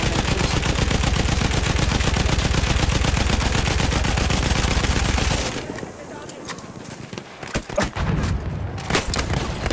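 Sustained suppressing machine-gun fire in the World War 1 shooter Battlefield 1, a loud dense rapid burst for about five seconds, then scattered distant shots and explosions.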